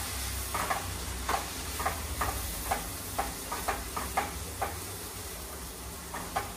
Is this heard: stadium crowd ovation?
no